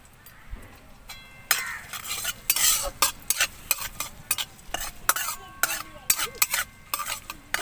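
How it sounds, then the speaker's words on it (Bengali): Chopped ginger and garlic fry in hot oil, giving a steady sizzle broken by frequent clinks and scrapes of a spoon stirring against the pan, loud and close with no talking. "তেল গরম হয়ে গিয়েছে, তেলের মধ্যে দিয়ে দেব আদা কুচি, দিয়ে দেব রসুন কুচি,"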